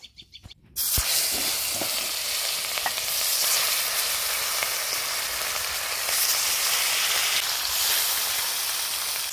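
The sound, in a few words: fish coated with salt and turmeric frying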